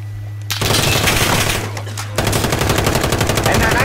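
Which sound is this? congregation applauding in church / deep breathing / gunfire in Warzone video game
gunfire in Warzone video game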